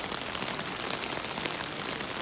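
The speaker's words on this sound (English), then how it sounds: "You can hear the rain." Rain patters steadily on a tent pitched near a river, a dense, even hiss of drops with no breaks, close and moderately loud, with no voices.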